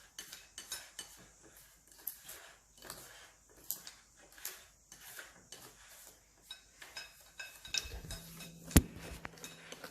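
A spoon mixing apple pie filling in a bowl, with irregular light clinks and scrapes against the dish, fairly faint, continuing for several seconds with no talking.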